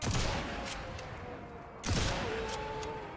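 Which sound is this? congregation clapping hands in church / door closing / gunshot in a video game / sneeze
gunshot in a video game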